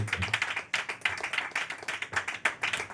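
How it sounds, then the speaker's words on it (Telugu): A church congregation claps hands together in praise, a dense and lively patter of many hands in a steady rhythm, close and fairly loud, with no voices heard. "చప్పట్లు కొట్టి దేవునికి స్తోత్రాలు చెల్లిస్తున్నాం"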